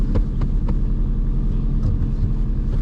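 A cheap, worn Ford Focus engine catches and keeps running, a steady low rumble held close and loud for the whole stretch with a few faint higher clanks on top.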